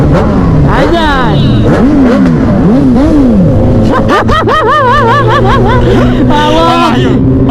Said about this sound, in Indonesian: Coba geber dulu lah